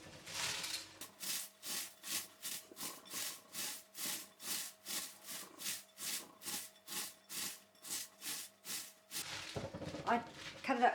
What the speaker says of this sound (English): And then we just massage salt in.